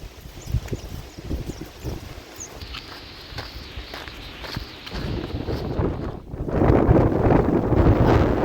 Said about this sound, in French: Ce vent est saoulant.